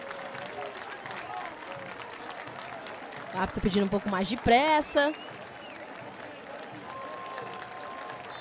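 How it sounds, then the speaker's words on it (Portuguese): Stadium crowd at a Campeonato Pernambucano football match between Central and Santa Cruz applauds steadily as a substitute comes on, a diffuse roar and clapping under continuous commentator talk, with a brief louder burst midway. "Os torcedores presentes vão aplaudindo"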